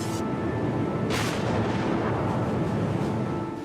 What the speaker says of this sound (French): Sur le pont, un canon de 88 mm pour tirer sur les navires.